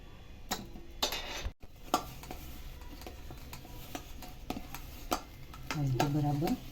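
Grated boiled potato being mixed with cornflour and salt in a bowl, giving several light scraping and tapping stirs at close range, with a short burst of speech near the end.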